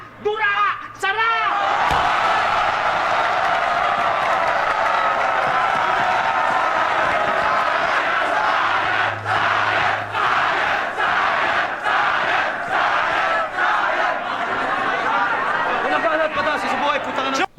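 At a FlipTop rap battle, a dense crowd roars and shouts continuously, loud and close, with bursts of cheering and chatter and voices rising through the noise.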